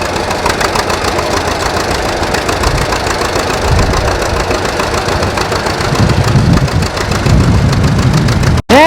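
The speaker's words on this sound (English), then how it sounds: "the distinctive sound of the John Deere tractor" An antique John Deere tractor at a northern Maine plow day runs with a loud, rapid knocking putter, steady and close. It ends with a brief thump.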